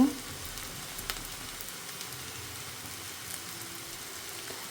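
Mustard curry cooking in a pan gives a soft, steady sizzle that stays faint and even throughout, with no talking.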